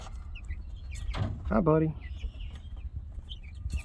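Backyard chickens give a short harmonic cluck or squawk under and around a man's greeting, with low background rumble throughout.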